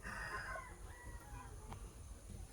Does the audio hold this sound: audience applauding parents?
no